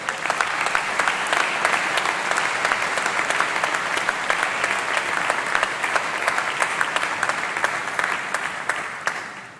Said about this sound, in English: let's give a round of applause to everybody who's helped you along the journey